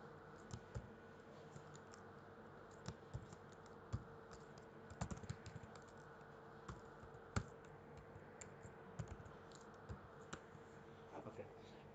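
HTML code is typed on a computer keyboard in irregular bursts of quiet key clicks, close but faint over a steady low hum.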